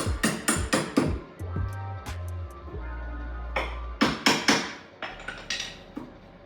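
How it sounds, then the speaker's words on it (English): Hammer blows land on a rusted part of a B20-swapped Honda Civic: sharp metallic strikes in quick clusters, with a low steady hum in the middle stretch before another burst of hits. "We need the hammer."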